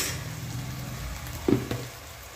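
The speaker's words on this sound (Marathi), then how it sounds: "थोडंसं कमी गॅस करायचा आणि छान असं मस्त फ्राय करून घ्यायचं" Masala paste frying in a pan over reduced heat for a chana masala, a soft steady sizzle with a couple of brief stirring clatters in the middle.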